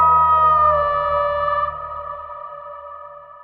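A cinematic signature sound in the style of Jurassic World Dominion, built from sidechained layers: a sustained tonal chord over a low bass bed that swells loud, then slowly fades over a few seconds, with nothing else around it.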